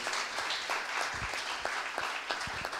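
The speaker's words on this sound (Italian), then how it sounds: "Diamo un applauso, ben tre vescovi" A church gathering applauds three visiting bishops with a short burst of steady clapping, moderately close with a few sharper individual claps in the mix.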